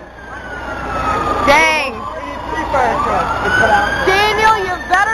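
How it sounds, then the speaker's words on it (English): Emergency vehicle sirens wailing and yelping as fire trucks arrive at a building where the fire alarm went off, loud and rising as they approach, with several overlapping tones and a person speaking briefly. "Oh look, more sirens are coming."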